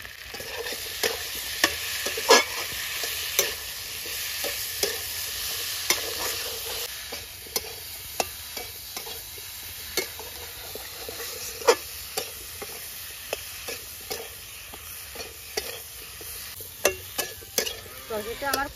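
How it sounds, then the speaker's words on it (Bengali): Curry of taro and fish being stirred in a pan, the spatula scraping and clattering in repeated sharp strokes over a steady close sizzle, with no talking. "তরকারিটা আমার কষানো হয়েছে"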